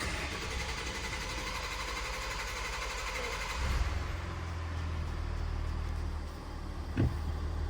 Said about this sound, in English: it did just crank over there, just spun over quite a few times before it actually started, but it doesn't sound too bad now